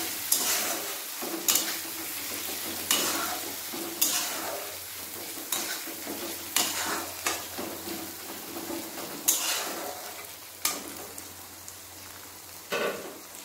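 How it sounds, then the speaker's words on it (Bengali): Ginger and turmeric powder fry in oil in a pan for a rohu fish curry, a constant sizzle punctuated by regular, fairly loud scraping stir strokes throughout. "হলুদ গুঁড়ো দিলে আদাটা ছিটকে না"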